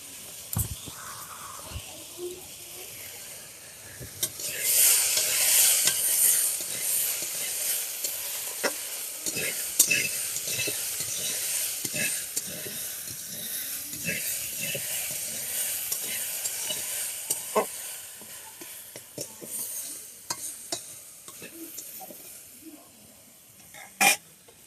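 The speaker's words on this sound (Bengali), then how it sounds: "সবজিটা আমার ফ্রাই করা হয়ে গেছে।" Shaak greens fry in an oily pan, a loud steady sizzle with repeated scraping and stirring of a spatula, close by and continuing throughout.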